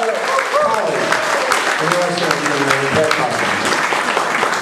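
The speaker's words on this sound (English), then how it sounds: "Ted, give Ted a nice round of applause" An audience at a Delaware Democratic Party jamboree applauds for Ted, a dense, steady wash of clapping that holds loudly throughout, with voices mixed into the crowd.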